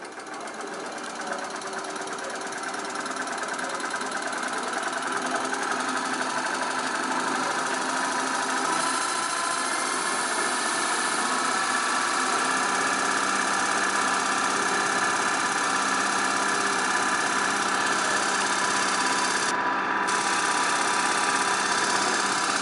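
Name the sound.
permanent magnet brushless DC motor running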